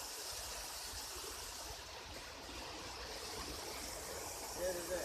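The Tunki waterfall gives a steady, broad rush of falling water, an even hiss with no breaks, heard fairly faintly from some distance.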